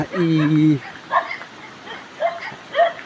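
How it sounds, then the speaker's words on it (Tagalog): One of many dogs along a road gives a drawn-out whining yelp, followed by several short, moderately loud barks spaced out over a few seconds. "Maraming aso"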